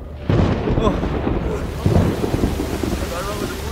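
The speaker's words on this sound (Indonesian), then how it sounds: "Namun tiba-tiba petir menyambar si pemburu." A loud thunderclap cracks and rumbles in a storm, with rain falling steadily beneath it and a second heavy rumble swelling partway through.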